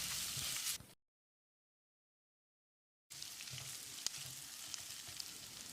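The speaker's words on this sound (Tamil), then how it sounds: "2 பெரிய வெங்காயம் நீல வாக்கில் நறுக்கினது. 1 நிமிஷம் இதை நல்லா வதக்கிடலாம்." Steady sizzling from a hot pan of sliced onions being sautéed, cut by about two seconds of silence, then the frying resumes with occasional light clicks and stirring.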